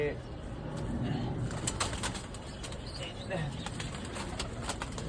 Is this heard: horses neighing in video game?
no